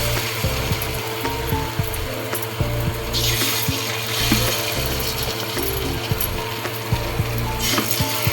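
Palm fruit fritters fry in hot oil with a steady, bubbling sizzle. The hiss swells louder partway through, with small clicks and scrapes mixed in and no talking.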